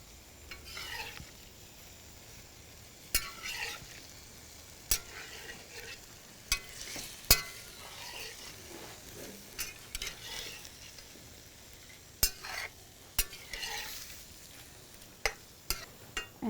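Chicken and liquid stirred into a pan of butter, frying with a steady sizzle while a spoon scrapes and clinks against the pan in sharp, irregular knocks, close and alone.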